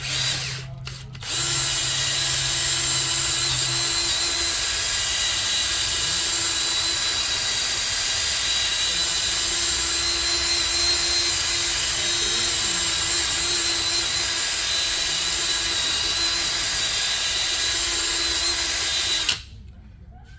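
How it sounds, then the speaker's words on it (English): A power drill with a metal wire brush, used during an Audi RS7 front brake service, runs steadily for nearly twenty seconds, a loud, continuous high whine with a low hum, stopping near the end. "You get a metal brush with a drill bit, and a"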